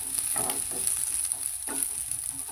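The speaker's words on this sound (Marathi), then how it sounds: "लसूण पण मस्त फ्राय करून घेऊ" Garlic and onion fry in a pan with a steady, close sizzle, broken by a couple of scraping stirs from a spoon, with no voices.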